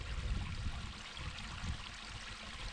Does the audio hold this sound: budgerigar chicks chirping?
no